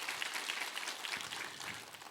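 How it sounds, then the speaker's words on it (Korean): A church congregation applauds during a Sunday worship service, a soft, steady patter of many hands clapping that sounds fairly distant and quiet and carries on without a break. "함께 힘찬 격려의 박수 한번 부탁합니다."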